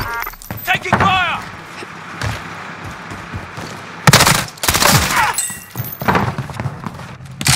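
Gunfire in the video game Call of Duty Cold War, including an MP5 with exploding tracers: loud, sharp bursts of shots and thuds come in clusters, mixed with in-game voices.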